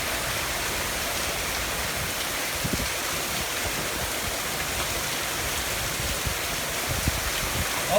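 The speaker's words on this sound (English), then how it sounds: "We got hail!" Hail pelts the ground and a driveway during a severe thunderstorm with gusty winds, making a dense, steady roar of impacts with scattered sharper knocks throughout.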